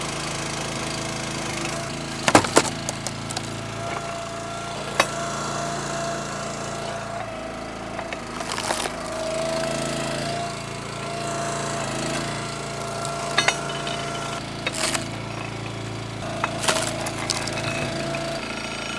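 The engine of a Split-Fire 3490 log splitter runs at a steady, loud idle with a constant throbbing drone, broken by a few sharp clanks and knocks.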